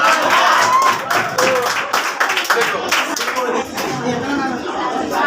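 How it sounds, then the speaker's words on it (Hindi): Students in a classroom clap in a brief round of applause, the scattered claps mixed with a teacher's voice and some chatter. "दूसरे के लिए ताली बजा रहे हैं, आपके लिए भी बजा रहे हैं।"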